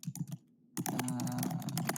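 Rapid keystrokes on a computer keyboard, close and clear, in a quick burst, a short pause, then a denser stretch of continuous typing.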